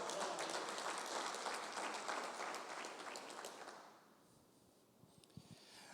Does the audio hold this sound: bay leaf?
no